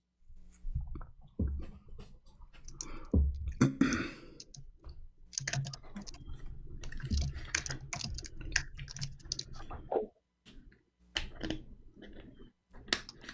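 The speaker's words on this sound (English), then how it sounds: "He's fighting the keyboard." Fast, uneven typing on a computer keyboard, close and clear, with bursts of clattering keystrokes broken by short pauses and a brief near-silent gap late on.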